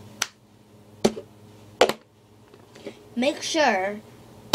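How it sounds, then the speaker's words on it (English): Sharp hand hits on a plastic cup in a cup song rhythm, three crisp spaced taps followed by a muffled knock, then a person speaks briefly before another hit at the end. "as you hit the cup, it makes... Boom, that sound."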